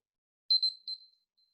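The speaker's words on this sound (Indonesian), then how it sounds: "Oke, alarm sudah berbunyi." A short electronic alarm goes off with a few high, clipped beeps in quick succession, standing alone in a quiet background.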